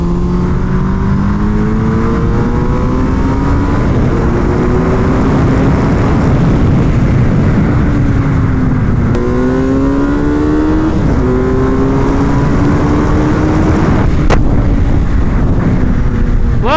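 A Suzuki Hayabusa motorcycle is ridden hard on a race track during a track day, its engine droning loudly and continuously under heavy wind rush, with the pitch rising and falling through repeated gear shifts.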